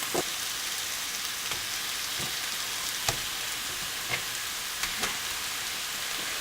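Sausage and mushrooms sizzle in a pan while a risotto is cooked, a steady close hiss of frying fat with occasional sharper pops and spatters, no voices.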